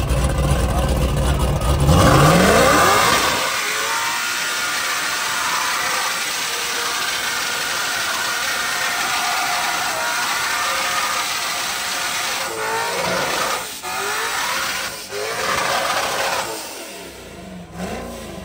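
A loud LS-powered car at an Australian ice cream car cruise revs hard, with a harsh burst at the start settling into a sustained roaring engine note and a few dips and surges near the end.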